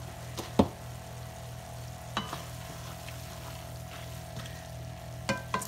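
Tomato sauce seasoned with dried oregano for lasagna being stirred in a pot, a few soft scrapes and knocks over a quiet steady simmer.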